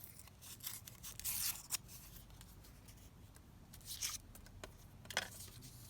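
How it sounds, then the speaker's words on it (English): A book page torn by hand in short, close, papery rips, several quick tears in bursts with quiet gaps between them, no talking. "tear it down so it's not so straight"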